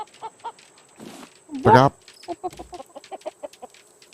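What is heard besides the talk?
chickens clucking in the video game Raft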